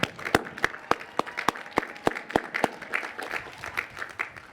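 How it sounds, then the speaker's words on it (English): At a high school graduation ceremony, a small scattering of people claps for the 2020 graduating class, distinct individual claps in a loose uneven rhythm, fairly faint and thinning out toward the end. "I think we should give a round of applause to the 2020 graduating class"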